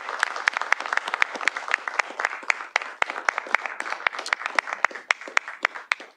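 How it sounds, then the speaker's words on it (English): Audience applause fills a city board of directors meeting chamber, a steady run of many sharp hand claps lasting several seconds at moderate loudness, with no voices over it. "Let's give her another round of applause."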